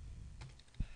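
Typing on a computer keyboard: a couple of soft, isolated key clicks close by in a quiet room, one slightly louder tap near the end.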